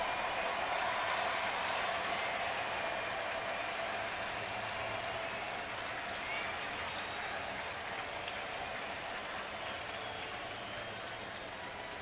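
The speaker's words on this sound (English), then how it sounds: "Crowd comes alive." A baseball stadium crowd cheers as runners take off on a pitch, a steady, distant broadband roar that holds evenly throughout without any clear individual voices.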